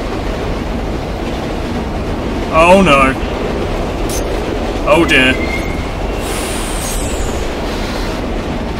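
Train noise in the video game Condemned: Criminal Origins, a steady loud rumble with a couple of brief screeching impacts and a faint high squeal near the end, while a man reacts aloud over it.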